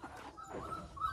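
Puppies whimpering softly, a few faint high whines and yips up close, brief and quiet.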